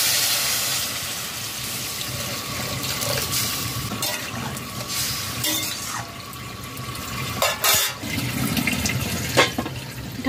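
Water poured from a vessel into a pan for Bengali papad curry, a continuous splashing, gurgling pour with brief breaks and surges, fairly close and alone without talk.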